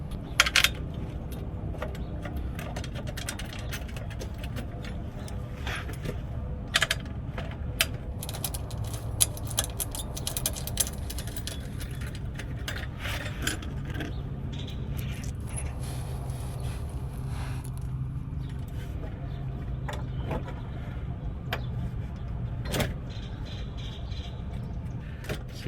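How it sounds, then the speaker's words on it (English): Bolts for Tyger running boards going into a 2024 Nissan Frontier make scattered metallic clinks, taps and ratchet-like clicks over a steady low background hum, close by and fairly quiet. "let me get those bolts in and we'll see how it does"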